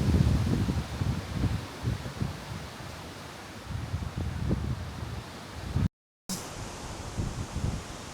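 Heavy wind buffets a small camera microphone outdoors on an extremely windy day near Phoenix, a continuous loud rumble with gusting surges and rustling. The noise cuts out abruptly for a moment near the end, then resumes.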